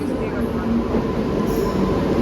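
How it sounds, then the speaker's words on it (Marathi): Indrayani Express passenger train at a station platform, a steady loud low rumble of rolling railcars continuing throughout without pause, with faint voices mixed in. "आमची ट्रेन आलेली आहे."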